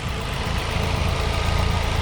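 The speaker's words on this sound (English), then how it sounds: "so I've got the engine running now." Ford Fiesta ST150 engine idling steadily, a low rumbling drone with even broadband noise that holds constant and fairly close, with no talk over it.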